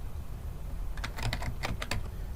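A quick run of keyboard key clicks, several taps in a burst over a low background hum.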